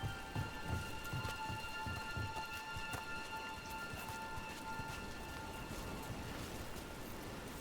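Steady, heavy rain pours down without a break in the video game Dragon Age: The Veilguard, a dense hiss of drops with low rumbling underneath and no voices.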